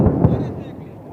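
Bombs dropped by a Sukhoi 30 MKI fighter jet at the Exercise Vayushakti 2024 air power drill explode as two deep, distant booms in quick succession, followed by a fading low rumble.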